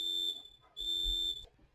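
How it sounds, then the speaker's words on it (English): A household smoke alarm sounds in two loud, shrill piercing bursts separated by a short pause, heard alone with no one speaking. "my fire alarm will going off in my house"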